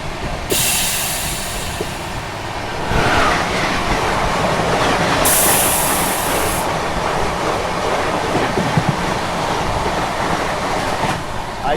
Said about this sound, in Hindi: DFC में चल रही मालगाड़ी को पैरेलल ओवरटेक।